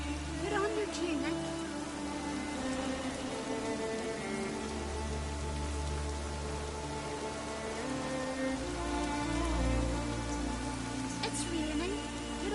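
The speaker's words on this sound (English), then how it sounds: "It's raining." Steady rain patters continuously on a surface in the video game The Witcher 3, with a low hum and faint tonal background sounds running underneath.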